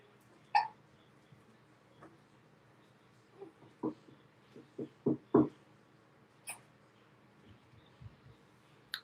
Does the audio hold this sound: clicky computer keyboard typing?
no